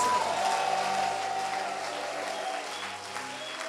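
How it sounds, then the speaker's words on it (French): Church congregation at a French-language conference applauding warmly, a steady dense wash of clapping that slowly fades, with faint tonal sounds underneath. "Est-ce qu'on peut l'acclamer ce matin?"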